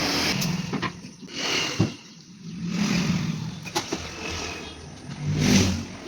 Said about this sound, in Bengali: এখন গাড়িগুলো আগিয়ে নিই, তোমরা দেখতে থাকো।